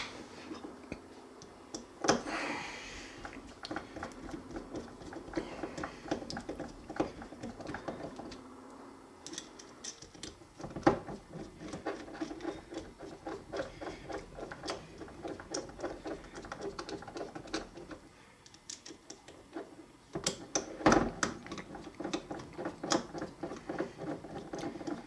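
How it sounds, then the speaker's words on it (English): Screws are tightened on the bulldozer pulley of a Road Show pinball machine, making close, irregular ticks, scrapes and small mechanical clatters at a quiet level, with a few louder knocks, and no voices. "So let me just tighten these screws in."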